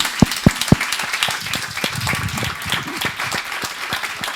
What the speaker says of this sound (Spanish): me gustaría pedir un aplauso para esta mesa